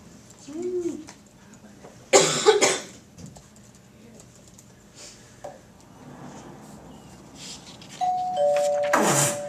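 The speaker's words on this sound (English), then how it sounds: "Nice doorbell." A doorbell chimes twice: a short ding-dong, then a sustained two-tone ring near the end, with bursts of noise and scattered sounds between.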